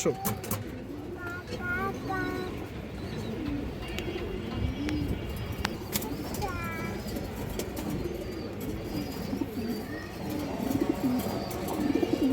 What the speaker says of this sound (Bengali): খুবই সুন্দর এক পেয়ার কালা গলা কবুতর মশাল্লা পাল্লার লাইনের কবুতর